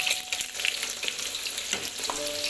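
Jengkol (dog fruit), boiled first, is frying in hot oil for a half-cooked finish, giving a busy, close sizzle with bubbling crackle and occasional stirring clinks, and no talk.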